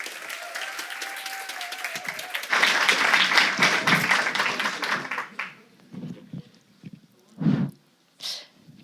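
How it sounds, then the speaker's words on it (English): An audience claps for a few seconds, loud and dense, then the applause thins out into scattered breaths and small noises. "So welcome Sonja and applause to Sonja."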